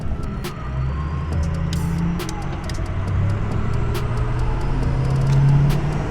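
A Ford pickup drives on the highway near I-25, with a steady low engine and road rumble inside the cab and faint ticking clicks on top.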